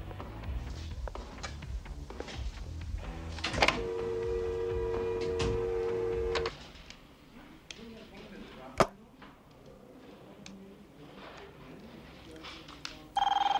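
Telephone ringing in a 1989 animated space cop series, a steady electronic ring tone lasting a few seconds amid background sounds and talk, followed by a sharp click and quieter room noise.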